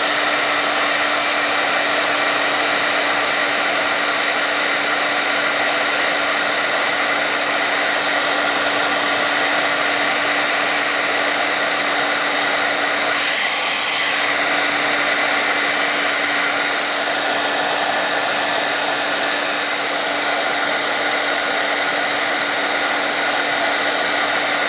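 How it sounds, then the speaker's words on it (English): A handheld heat tool blows hot air over wet stencil paint, producing a loud, steady, unbroken whoosh with a constant hum that runs close and alone for the whole stretch. "So I'm going to hit it with my heat tool to see if it can dry."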